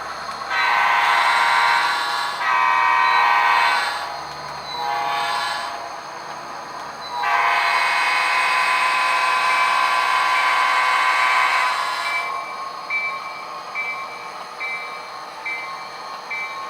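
Locomotives on a railroad during switching operations, with long loud horn-like tonal blasts in several bursts separated by short gaps, then a fainter steady tone trailing off at the end.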